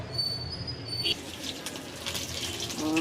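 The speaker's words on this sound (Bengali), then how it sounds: "তো এখন এই যে আবার ভেজে দিচ্ছি 2টা" Chicken wings fry in hot oil with a continuous broad sizzle and bubbling hiss, close and moderately loud, a brief higher tone near the start and faint background sounds.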